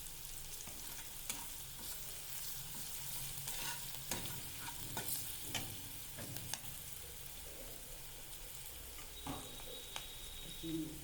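Turmeric powder is stirred into hilsa fish masala frying in oil, giving a soft continuous sizzle broken by intermittent scrapes of the spoon, faint and close.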